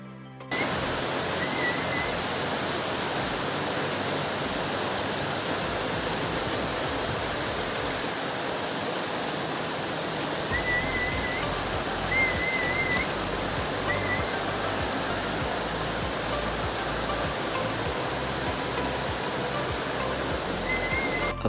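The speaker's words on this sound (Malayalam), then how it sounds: "നല്ല മഴയാണ് ഇപ്പോൾ." Heavy rain pours steadily outdoors during a pigeon-flying training session, a dense, even hiss that stays loud and constant throughout with no talk.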